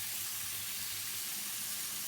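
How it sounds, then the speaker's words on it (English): Chicken frying in a pan during a batch cook, a steady dense sizzle with hissing crackle, close and continuous, no voices. "the chicken's been frying for about 5 minutes"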